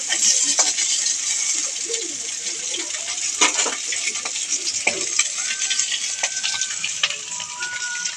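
Fish fries in hot oil in a pan with a loud, continuous close sizzle, punctuated by occasional clinks and scrapes as the pieces are turned.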